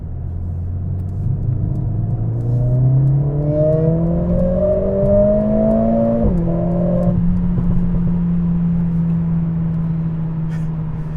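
Mercedes CLA45 S engine revving through a newly fitted aftermarket exhaust, climbing steadily in pitch and volume for several seconds, then dropping sharply and settling into a steady, rumbling drone.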